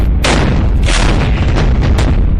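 Repeated booming shots from M777 ultralight howitzer artillery, four or five heavy blasts about half a second apart, loud and close with a continuous rumbling roar between them.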